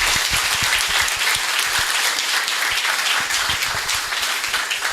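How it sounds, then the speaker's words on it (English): Steady audience applause fills the whole stretch at an outdoor community bench unveiling honouring Harry Belafonte, dense overlapping hand claps at an even, loud level with no break. "Can we give another round of applause to Ras Silas"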